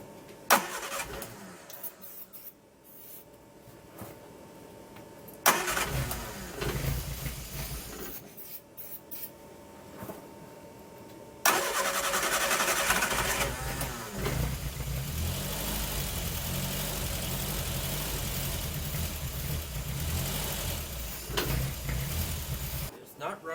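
A barn-find Triumph Spitfire engine, sitting for 43 years, cranks and fires, then settles into a loud steady run that stays close and continuous. Before it catches there are quieter stretches with bursts of cranking, and a voice talks at times.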